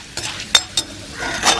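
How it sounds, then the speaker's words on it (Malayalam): Washed chana dal is stirred in a hot pan as it roasts, giving a faint sizzle behind three or four sharp scrapes and clinks of a spoon against the pan. "ഇതൊന്ന് വറുത്തെടുക്കുക കേട്ടോ."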